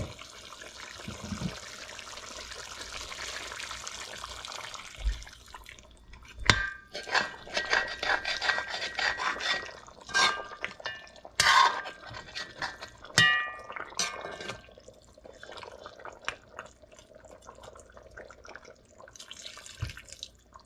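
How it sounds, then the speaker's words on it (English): Water is poured from a tap or jug into a pot of chicken curry on the stove, a splashing, trickling pour with intermittent clatters and drips, fairly close and moderately loud, with no speech. "so we're gonna add water now to this."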